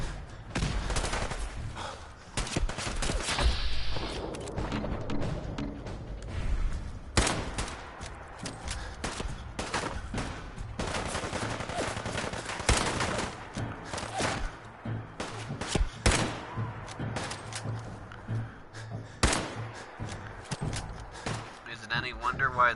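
Rifle fire in the video game Fallout 4: Far Harbor, loud repeated shots and bursts with thuds through a dense game soundtrack, while a person talks over it.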